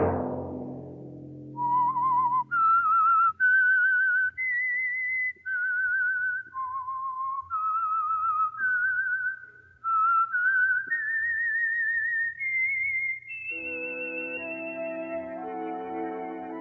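The theme tune of The Whistler radio show is whistled clearly as a solo. It is a melodic run of sustained notes, some rising and some falling, with short breaths between phrases, and it ends as a tonal chord comes in.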